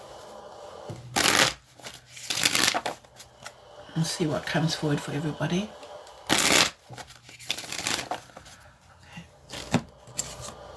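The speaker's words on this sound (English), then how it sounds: "Give these a good shuffle so that they're not together." Cards are riffled and shuffled several times in crisp bursts, close by, with a person talking between and over the shuffles.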